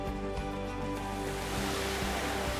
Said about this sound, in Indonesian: Ini dia, air terjun Banyumala.